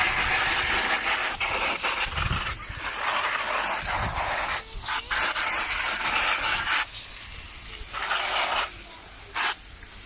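A water jet from a garden tap hose sprays onto a pool robot filter to clean it, a loud hissing rush that cuts in and out in several bursts, close by.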